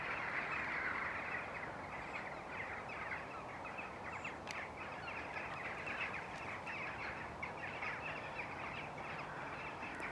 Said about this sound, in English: The birds going to roost.